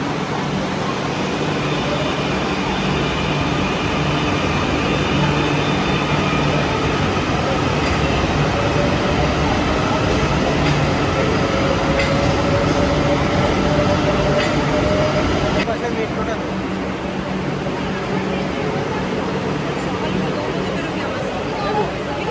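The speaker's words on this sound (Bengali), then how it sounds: "সেই মেট্রোটা কিন্তু এবার ছাড়বে, অলরেডি গেট বন্ধ হয়ে গেছে" A Kolkata Airport Metro train departs the station with a steady, loud rumble and rising whine of wheels and motors, a rail squeal in the middle, and a change in tone as it pulls away.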